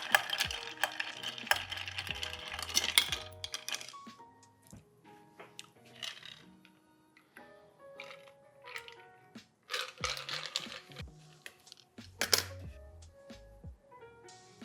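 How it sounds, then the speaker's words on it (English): A bar spoon stirs a Boulevardier of bourbon, Campari and sweet vermouth over ice in a mixing glass, with soft clinks and rattling of cubes in intermittent bursts, fairly quiet and close. "And only stirring for 15-20 seconds because we're serving it over ice."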